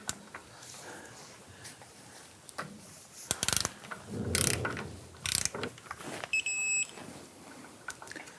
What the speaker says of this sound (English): We're going to torque the front bolt to 85 foot-pounds.